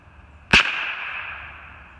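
A single sharp gunshot from a hunting rifle cracks out near and loud, its echo ringing on and fading slowly over the following second and a half, with no talk.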